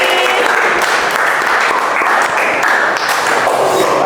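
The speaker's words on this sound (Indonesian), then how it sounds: "Mari kita beri aplaus untuk kelompok." A class applauds a student group after their presentation during a disaster-mitigation lesson, a dense, steady wash of many hands clapping at once, loud and close, filling the whole moment without a break.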